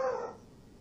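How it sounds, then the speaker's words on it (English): A single short bark from a dog indoors during a thunderstorm, fairly close and moderately loud, fading quickly into quiet room tone. "If you heard that noise, that was a dog."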